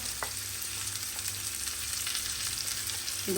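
Red onion tossed into a pan of carrot, bell pepper and zucchini frying together, giving a steady, close, unbroken sizzling hiss with a faint clack near the start.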